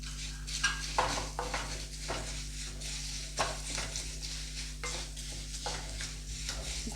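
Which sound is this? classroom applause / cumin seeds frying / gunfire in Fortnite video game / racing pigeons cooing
cumin seeds frying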